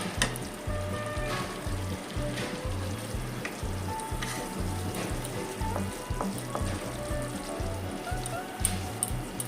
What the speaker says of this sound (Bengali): মশলাটা একটু কষিয়ে নেব ভালো করে